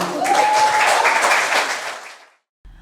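Crowd applause at an award ceremony honouring a Nigerian culture and tourism figure, loud and dense at first, then thinning and fading out, followed by a short quiet gap and a faint low sound at the very end.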